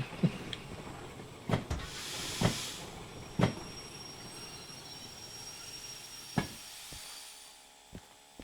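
A steam locomotive in the Derail Valley train game vents steam in a steady hiss over rumbling rail noise, broken by several sharp knocks and clanks.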